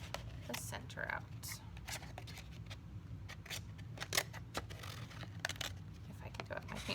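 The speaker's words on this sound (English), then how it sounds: "And then we're going to cut the center out" Scissors snip through paper to cut the center out of a painted paper wall art piece, a string of short, crisp cuts and rustles at close range.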